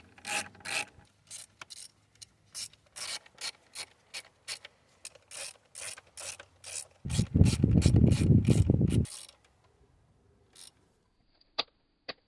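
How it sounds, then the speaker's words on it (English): Torque wrench tightening valve cover bolts on an Astra H engine, a run of rapid close ratchet clicks followed by a longer grinding ratchet stretch, then a couple of sharp clicks as the wrench reaches torque. "I started by tightening down the bolts and then torquing them"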